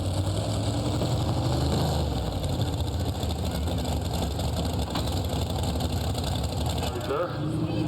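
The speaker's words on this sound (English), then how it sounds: "2 turbochargers feeding that supercharger. Gets a lot of horsepower. A V12 Detroit diesel." Modified pulling tractor with a twin-turbo, supercharged V12 Detroit diesel at a county fair tractor pull, a loud, steady heavy engine drone running throughout with some rumble and outdoor noise around it.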